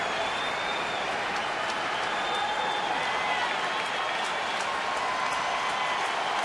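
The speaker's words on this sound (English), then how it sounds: "This crowd is buzzing." At a Boston at Houston baseball game, a big stadium crowd roars in a continuous dense wash of cheering and clapping, loud and steady throughout.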